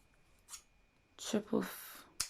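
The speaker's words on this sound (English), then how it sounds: "snip my excess fabric and my thread away" Scissors snip away excess fabric and thread from a stitched elastic girl's skirt. A few short, sharp, close cuts are spaced out, with a voice speaking between them.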